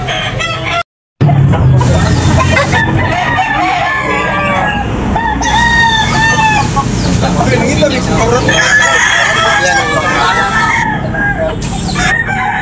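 Chickens crow and cluck loudly and continuously at a poultry market, several birds overlapping, with a busy crowd of voices mixed in.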